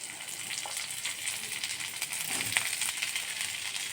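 Ginger and garlic frying in hot ghee in a pan, a steady soft sizzle and crackle running throughout, with a small clink near the middle.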